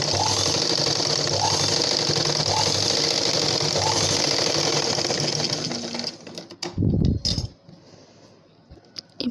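A sewing machine stitches darts into a blouse, a steady, close mechanical whir running unbroken for about six seconds before stopping, followed by a few scattered handling clicks and rustles.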